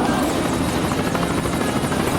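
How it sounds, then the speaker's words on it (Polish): A toy-style cartoon helicopter drones continuously nearby, its rotor producing a steady, loud pulsing roar throughout with no voices. "super helikopter? Doskonale!"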